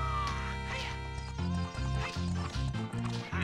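A horse whinnies and its hooves clip-clop at a gallop during a horse race in the Ocarina of Time 3D video game, a bright neigh first, then steady rhythmic hoofbeats under game music.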